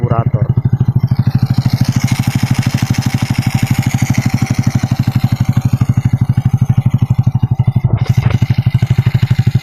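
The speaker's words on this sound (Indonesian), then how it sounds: "Di sini cuma kedengaran suara karburator." A Honda Revo carbureted motorcycle engine with a rough-running valve train idles close and loud, a fast, even pulsing beat that holds steady throughout.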